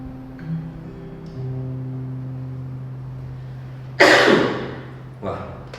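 A single person coughs sharply and loudly in a church talk setting, followed by a smaller second cough, over a low steady hum in a room with no speech.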